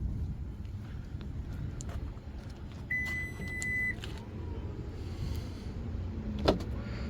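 A 2026 Honda CR-V EX-L locks with a confirming beep near the middle, over a steady low outdoor hum, followed later by a faint mechanical clunk.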